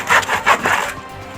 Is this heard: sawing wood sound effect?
yes